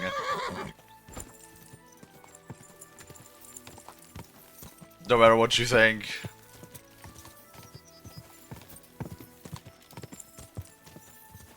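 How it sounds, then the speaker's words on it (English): Horse hooves clip-clop steadily and a horse neighs loudly partway through, in the medieval game Kingdom Come: Deliverance 2, with a speaking voice at the start over quiet background music. "Oh, yeah, the horse is still here."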